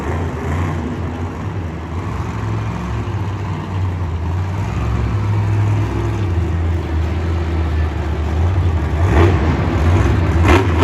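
A monster truck engine roars and revs steadily at Monster Jam in Houston on a slick, muddy track, a loud continuous drone that swells toward the end amid distant crowd noise.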